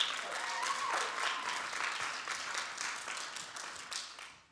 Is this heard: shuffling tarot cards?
no